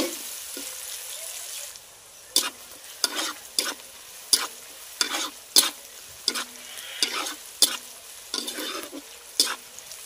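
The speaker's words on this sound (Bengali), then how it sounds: "পেঁয়াজকে হালকা করে ভেজে নেব" Onion fries lightly in a pan for a duck curry, a soft sizzle punctuated by about a dozen distinct scraping strokes of a spoon stirring at an irregular rhythm, close and fairly clear.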